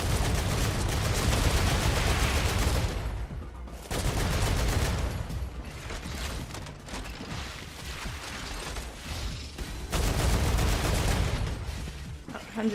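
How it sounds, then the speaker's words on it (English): Gunfire in a space factory base-building game, sustained loud bursts of rapid shots with mechanical clatter, pausing briefly and resuming, with no talk over it. "Just shooting."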